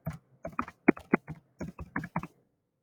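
A computer keyboard taps out a name in short, irregular bursts of close, crisp keystrokes, with a few brief pauses between clusters and no voices.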